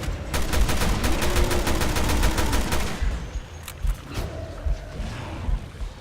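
Rapid gunfire in the survival-horror video game Resident Evil 2, a dense run of evenly spaced shots for about three seconds, then a few scattered single blasts amid lingering game noise.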